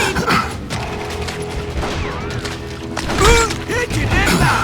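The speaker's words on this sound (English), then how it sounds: "They're shooting in the street!" Gunfire rings out along a town street in the Western shooter Call of Juarez Gunslinger, with loud cracks and booms mixed among mechanical clanks and creaks, denser and louder toward the end of the stretch.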